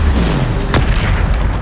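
A Bombarda blasting spell explodes in Hogwarts Legacy, a loud, dense booming burst that fills the clip with a continuous low rumble and a sharp crack near the middle.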